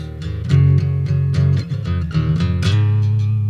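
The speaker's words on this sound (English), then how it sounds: "that's a very, very awesome sounding riff." A distorted electric guitar riff of chugging power chords, loud and rhythmic, repeating in short punchy bursts without any talking.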